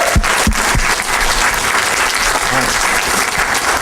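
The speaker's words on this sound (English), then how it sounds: "everybody should give them a round of applause." A dense, loud burst of audience applause fills a hall, with many hands clapping continuously and a few louder individual claps near the front.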